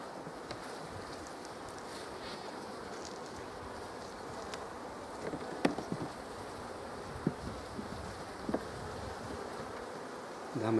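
Honeybees buzz in an open hive while a beekeeper shakes them off a frame and releases a queen, a dense steady hum close by with occasional light knocks and handling clicks, no talk.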